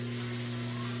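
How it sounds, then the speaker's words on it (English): Hot water running from a sink tap during hand washing before cleaning trimmers, a steady even hiss of flowing water with a faint background hum. "go ahead and start your hot water."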